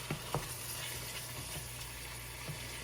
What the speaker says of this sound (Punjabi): ਆਪਣਾ ਮਸਾਲਾ ਆ ਦੇਖੋ ਕਿੰਨਾ ਸੋਹਣਾ ਭੁੱਜ ਚੁੱਕਿਆ ਆ